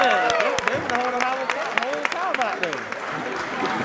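Crowd clapping and cheering at a high school football college signing day, loud and close, with whoops and shouted voices layered over the dense applause throughout.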